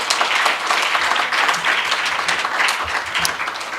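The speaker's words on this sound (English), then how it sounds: "can we give a round of applause again?" A crowd at a trade union launch in South Africa keeps up a loud, continuous round of applause. Many hands clap densely for several seconds, close and full.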